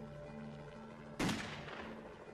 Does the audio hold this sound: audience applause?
no